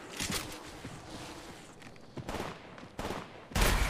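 Gunfire in Apex Legends Mobile, a series of moderate, irregular shots and bursts amid footsteps and game noise, ending with a sharp, louder burst.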